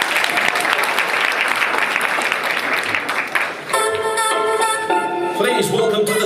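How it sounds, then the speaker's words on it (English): An audience at the Newham College Shining Stars awards ceremony claps loudly and steadily; partway through, music starts playing over the continuing applause. "please give massive round of applause for when they come"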